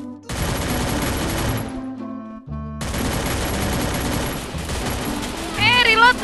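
An MP5 fired in the mobile battle game Free Fire sounds in loud, dense bursts, breaks off briefly in the middle and then resumes, with other game sounds joining near the end.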